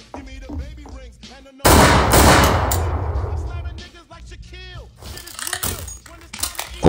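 Gunfire in the video game Garry's Mod, a sudden loud burst of shots that stays dense for about two seconds and trails off, with someone talking before and after it.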